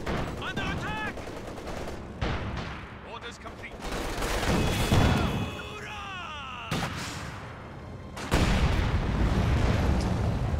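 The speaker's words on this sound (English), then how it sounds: "Schu-mine detonated under the T-70." A video game battle in which an S-mine detonates under a T-70 tank, amid loud bursts of gunfire, machine-gun rattle and explosions, with a voice talking over parts of the din.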